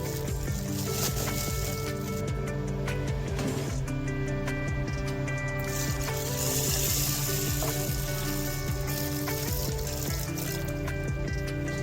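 Water trickles and sloshes steadily as lentils are rinsed by hand, set against a constant background hum and tonal drone throughout.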